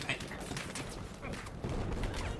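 Rapid bursts of Battlefield gunfire crackle in quick succession, moderately loud, with a voice speaking over the shooting.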